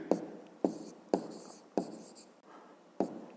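Pen writing an answer to a fifth-grade math exercise on paper, five short scratchy strokes close by, each starting with a tap and trailing off, in a quiet room.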